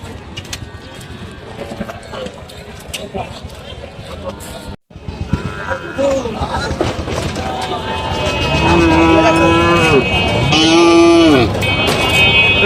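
Cattle, including Friesian cows, low and moo repeatedly at a busy cow market, the long calls growing louder and closer in the second half over a constant crowd murmur and background voices.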